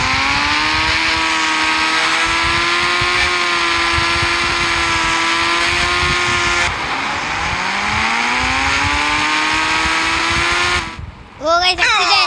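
A Kawasaki Ninja H2R superbike in a driving game, its engine droning at a high steady pitch, then dropping and climbing again as the rider shifts, before a sudden crash-like burst near the end; no talking.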